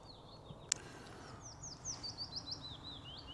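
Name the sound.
willow warbler calling from a tree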